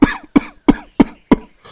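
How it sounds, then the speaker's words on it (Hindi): An elderly father-in-law coughs five times in quick, evenly spaced bursts. The harsh, chesty coughs are close and loud, with brief gaps between them and no talking. "तभी उसके ससुर के खांसने की आवाज से उसकी नींद खुल जाती है।"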